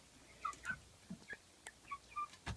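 Hens in a backyard chicken coop give short, soft clucks and gobbling-like calls in a scattered rhythm, fairly quiet and fairly close, with no talking.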